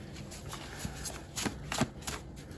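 Cards being shuffled close by, a soft riffling patter with a few sharper flicks, quiet and continuous.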